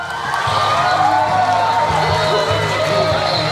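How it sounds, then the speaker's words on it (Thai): An audience applauds and cheers for two guests at a media event, a loud sustained roar of crowd noise with whoops and shouts running throughout. "ขอเสียงปรบมือกับทั้งสองท่านด้วยนะครับ"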